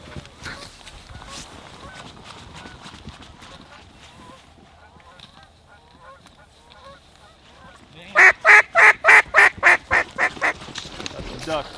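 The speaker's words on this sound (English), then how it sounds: "That's the ducks coming." Mallard ducks arrive over decoys during a hunt in stormy weather: faint chatter and calls at first, then a loud run of about eight sharp, evenly spaced honking quacks up close near the end.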